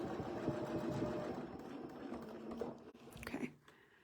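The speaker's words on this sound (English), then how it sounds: "So I'll sew a little slower," A sewing machine runs at a slowed, even pace stitching long basting stitches on a quilt, a low steady whir that fades out near the end.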